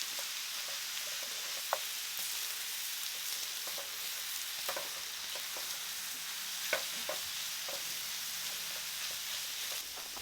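Sausage browns in a carbon steel pan, making a constant crackling sizzle with scattered light taps and scrapes as the meat is broken up, steady and close for several seconds.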